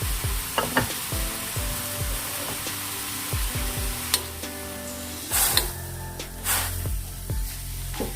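Minced pork is stir-fried in a pan without added water, giving a steady loud sizzle with repeated scraping and clinks of the spatula stirring the meat up close, with no talk.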